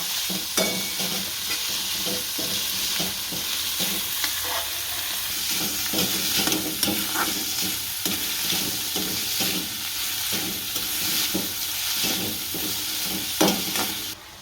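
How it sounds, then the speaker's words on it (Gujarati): Garlic sizzles loudly in a pan for roti noodles, a continuous close hiss with repeated scraping and clattering as it is stirred throughout. "આ લસણ નાખશું. હલાવશું."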